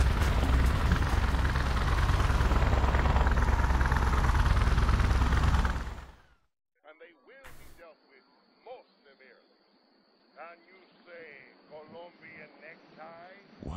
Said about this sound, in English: No! Evil choppers!